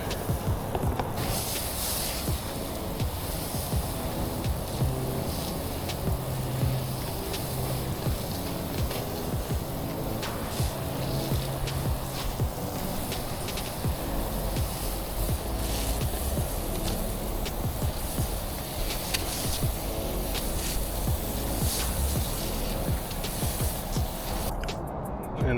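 A pressure washer spraying a concrete walkway and sidewalk, a continuous loud hissing blast of water that holds steady the whole time with a low pump drone underneath.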